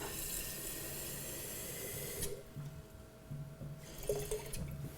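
Raw water pours steadily into a flask up to a 150 ml line for a couple of seconds, then stops, leaving quiet room sounds and a few soft clinks.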